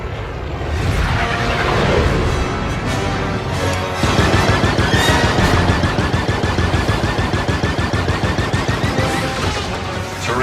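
A ship turret firing in Star Wars Outlaws during a space fight: loud, continuous rapid-fire blasts in a steady stream that lasts the whole stretch, with no pauses or talking.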